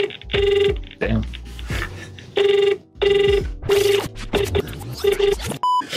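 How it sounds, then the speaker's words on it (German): Telephone ring tones while calling a customer care number: long ringing bursts repeat with short gaps, loud and close, with some handling noise and a final beep. "da können wir eigentlich einfach mal anrufen"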